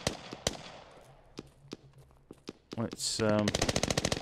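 Bursts of AK rifle fire in the military shooter Squad, sharp repeated cracks scattered early, then a rapid sustained automatic burst near the end, with a voice speaking briefly.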